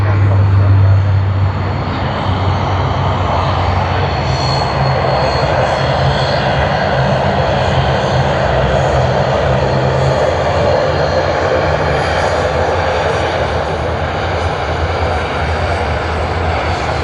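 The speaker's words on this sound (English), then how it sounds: "We'll capture Dash 8 departing." A Dash 8 turboprop airliner departing Sydney Airport, a loud, sustained engine roar with a low propeller drone fading slightly at the start, heavy and unbroken throughout while someone talks.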